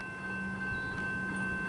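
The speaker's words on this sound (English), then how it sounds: "And the train's starting." A Melbourne suburban train on the Upfield line begins to depart: faint, steady motor whine and low rail rumble, heard from nearby without speech.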